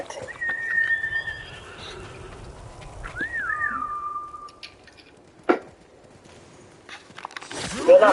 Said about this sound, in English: You're a Mongol horse of some kind.